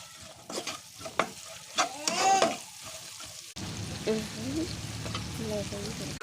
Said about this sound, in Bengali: কালীবাউস মাছ তেলে পেঁয়াজ দিলাম